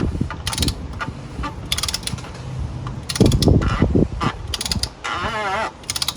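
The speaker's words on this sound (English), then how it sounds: "then get your socket and torque wrench" Torque wrench on a socket tightening an oil filter housing cap on a Jeep or Dodge during an oil change, with a series of sharp ratcheting clicks in bursts, close up and fairly quiet.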